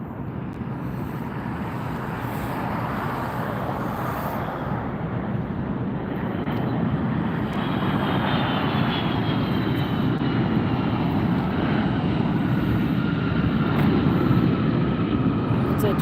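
A Delta airliner landing at Las Vegas airport, heard as a loud, steady jet engine roar building gradually over many seconds from close range, with wind buffeting the microphone throughout.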